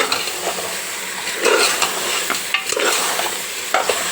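Mutton head pieces frying in oil for a head curry, a loud, close, steady sizzle with frequent scraping and stirring knocks against the pan at an irregular pace, and no talking.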